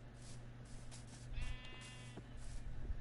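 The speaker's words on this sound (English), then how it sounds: "Aha! Another sheep!" Sheep bleating in the Minecraft video game: a single short, buzzy bleat rising briefly in the middle over a steady low game hum, fairly faint.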